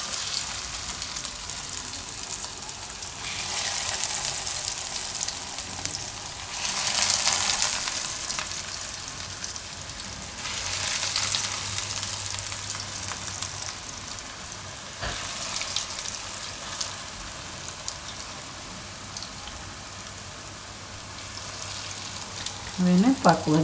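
Bread aloo tikki patties frying in hot oil over a low flame, a steady close-up sizzle that swells and eases in waves for a long stretch, with a few utensil clicks at the very end.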